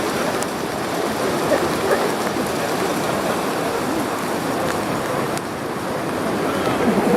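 Rough sea surf churning steadily with wind and rain in Patagonian weather, a continuous close, loud wash of broadband noise with no distinct breaks, alone without speech.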